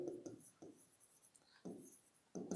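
Faint scratchy strokes of a pen writing out linear equations during a maths lesson, coming in short separate bursts close to the microphone with no talking.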